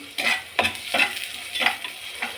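Ingredients for a village-style karunai kilangu kara kulambu sautéing in a pan, with a soft sizzle under about five rhythmic scraping stirs of a spoon, close and clear, no talking.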